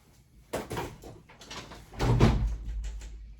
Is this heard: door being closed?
yes